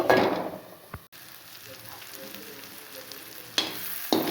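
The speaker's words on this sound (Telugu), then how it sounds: "చూసారా, హై ఫ్లేమ్లో ఆలివ్ ఆయిల్లో ఫ్రై చేశానండి." Cauliflower frying in olive oil over a high flame, a steady soft sizzle with a few sharper clinks and stirring bursts near the start and end, heard alone without talk.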